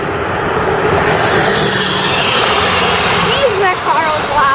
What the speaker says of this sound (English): Jeez, that car was loud.